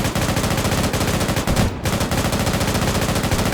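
Sustained automatic gunfire in Arma 3 combat, a loud, rapid, steady stream of shots with one brief pause partway through.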